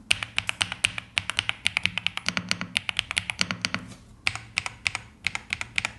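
Brisk, crisp keystrokes on a Yunzii wireless mechanical keyboard, close and clear, tapping in quick irregular bursts with a brief pause before resuming.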